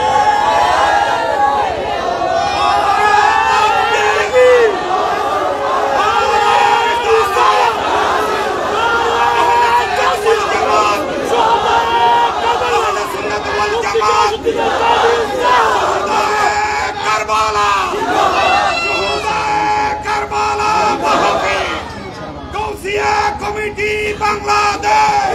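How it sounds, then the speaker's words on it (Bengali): A large crowd at an outdoor religious gathering in Patiya chants slogans loudly and continuously, with voices rising and falling in unison, raised cries and a dense background of crowd noise throughout. "আমার সাথে কে কে আছেন হাত তুলে স্লোগান দেন"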